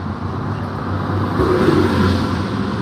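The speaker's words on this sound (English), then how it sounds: "Buses are loud." A city bus passes along a street in Los Angeles, its broad engine rumble and road noise swelling up close over a couple of seconds, loud and steady with no talking.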